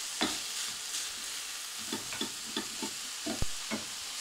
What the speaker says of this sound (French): on va remuer tout ça, on va cuire ça quelques minutes